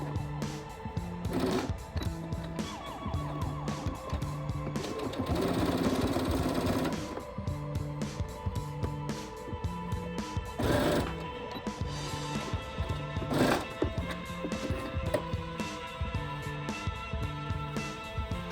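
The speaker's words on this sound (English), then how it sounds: "Then we sew the line." A domestic sewing machine stitches a seam with quilting thread, running in steady rapid bursts of mechanical chatter separated by short pauses, close and clear.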